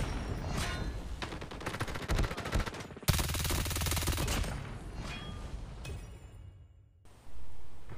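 An MG42 machine gun in a video game firing long rapid automatic strings, loud and close, with a brief break before a sustained burst and a short abrupt silence near the end; no speech.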